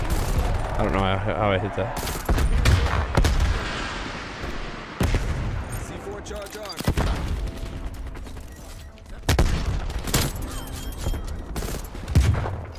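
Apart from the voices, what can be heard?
shotgun firing in video game Call of Duty Cold War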